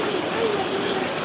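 Heavy rain pours down outdoors during a power cut at night, a steady broadband hiss of drops on surfaces continuing evenly throughout, close and fairly loud.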